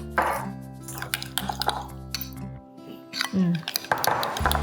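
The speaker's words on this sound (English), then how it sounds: "So you wanna mix it all together until you're getting kind of a nice even consistency." Ingredients stirred together in a bowl while preparing miso salmon and enoki mushrooms: close clinks and scrapes of a utensil against the bowl in irregular strokes, with someone talking over them.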